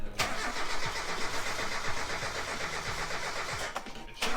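A 1991 Mazda Miata engine cranks with a rhythmic starter churn lasting several seconds and then catches briefly. The sound is close and moderately loud, with no talk over it.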